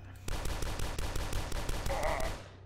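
Rapid automatic gunfire from the first-person shooter Dusk, a fast, steady stream of loud shots running for over two seconds with a brief tonal effect near the end, no talking.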